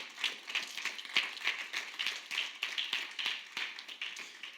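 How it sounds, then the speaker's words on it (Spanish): A church congregation claps during a sermon, a fairly sparse crowd whose hands strike in a loose, rhythmic pattern of distinct claps at moderate loudness, with no voices. "dale un aplauso al Señor"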